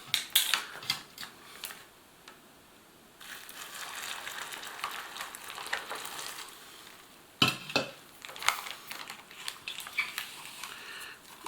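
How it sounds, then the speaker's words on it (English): A spoon stirring a freeze-dried beef soup ration with corn and vegetables, close scraping and rustling strokes in bursts with a short quiet pause between. "I try to stir it"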